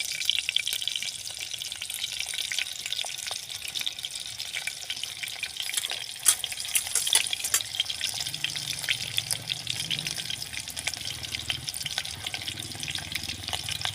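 Chopped onion frying in oil in a pan on a clay stove, a continuous close hiss and crackle of sizzling with occasional stirring scrapes.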